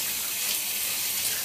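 Tap water gushing steadily over hair as dye is rinsed out at a sink, a close, even rushing hiss without speech.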